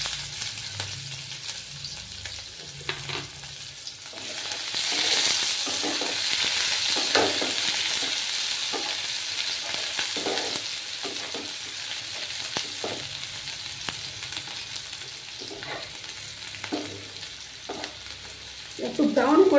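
Chopped onions fry in a hot pan with a steady sizzle. Scraping and stirring sounds come through at intervals, and the sizzle swells briefly toward the end.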